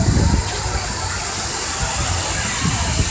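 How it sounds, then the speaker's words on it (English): Steady rushing and gushing water flows through a lazy river at a minor-league ballpark, a continuous broadband wash with low churning beneath, close and fairly loud, while faint crowd murmur sits in the background. "And here's kind of the lazy river area here."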